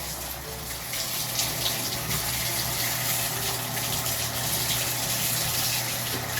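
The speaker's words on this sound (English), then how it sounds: "I'm just gonna rinse off the foliage and try and get as much of the neem residue off" Lukewarm tap water runs in a steady, moderately loud stream, rinsing neem oil residue off the foliage of a new houseplant, with no talking.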